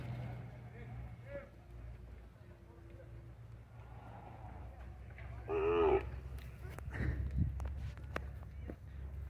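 Cattle at a livestock fair in Cipó, Bahia, with one loud, drawn-out moo midway through, set against a steady murmur of people talking and moving around the market.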